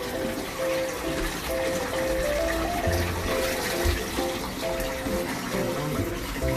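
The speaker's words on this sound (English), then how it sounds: "Why do I hear like there's water?" Continuous flowing water, a steady gushing trickle with no pauses, from the return line of a Red Sea Reefer Peninsula 650 aquarium.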